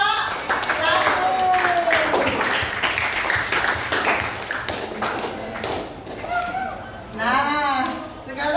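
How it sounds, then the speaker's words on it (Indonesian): Classroom applause from a group of students, a scattered burst of clapping with voices mixed through it, lasting several seconds at steady close volume before talk takes over near the end. "Tepuk tangan untuk Bapak."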